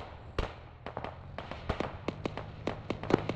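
Gunfire in the Arma 3 video game: a string of sharp, spaced shots and bursts, loud and close, with irregular rhythm over a low background rumble.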